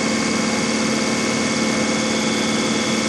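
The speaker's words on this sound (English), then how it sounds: "I've got the throttle, you know, pretty much all the way down. Controller running wide open" An electric motor driving a ZF automatic gearbox at full throttle puts out a loud, steady, unbroken whine and hum, with a dense mechanical drone that stays constant throughout.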